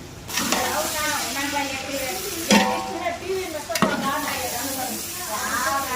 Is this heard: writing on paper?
no